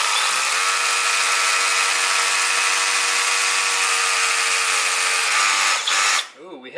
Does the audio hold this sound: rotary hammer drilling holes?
yes